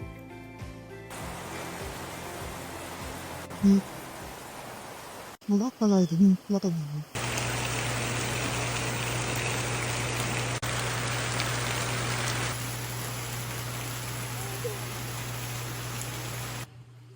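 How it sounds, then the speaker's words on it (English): Tropical rainfall in a Costa Rica jungle: a dense, steady hiss of rain on leaves and surfaces fills most of the stretch, following a quieter start and a brief voice-like sound, with a low constant hum underneath. "witnessed a real tropical rainfall"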